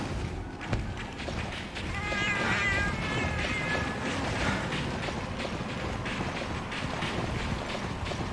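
Cats meow in the Monster Hunter video game, a cluster of mid-pitched wavering cries rising over a steady rushing, windy background bed, fairly quiet and without talk.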